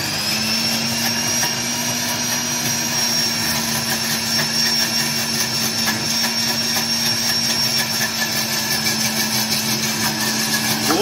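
A blender whirs at high speed, emulsifying Caesar salad dressing as oil is added: a steady, loud motor whine with a sustained hum that holds evenly for about eleven seconds, nothing else heard.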